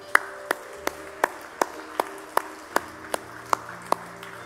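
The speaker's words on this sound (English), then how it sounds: "Y'all give him a hand clap this morning." A church congregation gives a short hand clap during a morning service, heard as about eleven sharp claps at a steady, fairly quick rhythm, slightly spaced and moderately loud in a quiet room.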